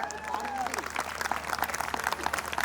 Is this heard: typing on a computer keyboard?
no